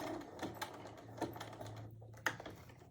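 Home sewing machine running a zigzag stitch while sewing a fabric coaster in a circle, with a quick mechanical patter and a steady low motor hum, plus a few louder clicks as the fabric is turned.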